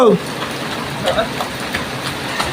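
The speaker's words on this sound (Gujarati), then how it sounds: "વરસાદ આવી ગયો" Steady rain falls in a village, a dense, even hiss of drops on surfaces, close and moderately loud, with no talk.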